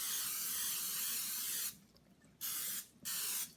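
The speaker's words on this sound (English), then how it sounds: "I'm just going to spray that with a little nonstick spray" Nonstick cooking spray hisses into a cake pan in three bursts: one long spray, then two short blasts after brief pauses, close and bright.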